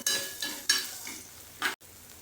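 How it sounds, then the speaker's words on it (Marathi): Onion-garlic masala with turmeric and chili chutney frying in a pan for drumstick bhaji, sizzling steadily while a spoon stirs it in several scraping strokes, close and clear, with no talk. "थोड़ी हळद टाकते दोन चमचे चटणी टाकते कांदा लसूण मसाला हा तिखट तुमच्या आवडीप्रमाणे घ्या सगळं भाजून घेऊया"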